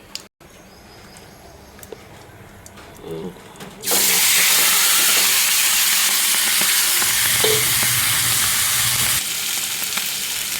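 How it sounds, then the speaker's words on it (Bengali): Hilsa fish poured into hot oil with cumin seeds, setting off a sudden loud hiss partway through that holds as a steady, close, intense sizzle, after some quiet kitchen clinks. "এখন মাছটাকে ঢেলে দিচ্ছি।"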